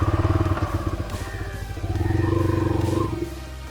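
A Bajaj Freedom 125 CNG motorcycle engine hums steadily while riding, with a pulsing low rumble that rises and falls slightly in intensity, loud and close throughout.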